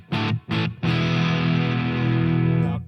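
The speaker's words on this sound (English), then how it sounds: "Clicking over to the reverb, I've got a room. It's real slight." Electric guitar through a Marshall Plexi-style patch playing a few short chords, then a long sustained chord ringing out, with a faint touch of room reverb.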